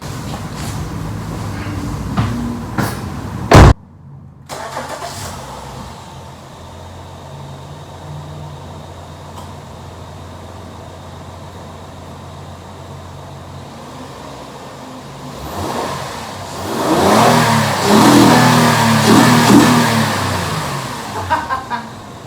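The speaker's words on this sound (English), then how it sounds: "Here's some induction noise." A Honda Accord V6 fitted with a cold air intake starts with a sharp bang, then idles in a low steady hum before revving into a louder rising intake roar near the end.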